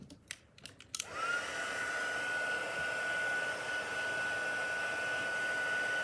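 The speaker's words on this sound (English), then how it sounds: "I need to heat emboss this first." A heat embossing tool blows over a stamped greeting card, a steady whooshing fan roar with a thin whine that starts after a few light handling clicks and runs on alone.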